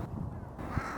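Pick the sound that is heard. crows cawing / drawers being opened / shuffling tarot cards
crows cawing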